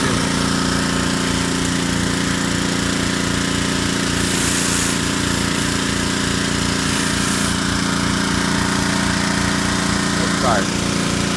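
A pressure washer with a new surface cleaner scrubs a long-neglected, dirty home driveway, giving a loud, steady engine-driven drone with a constant hiss that never lets up from start to finish.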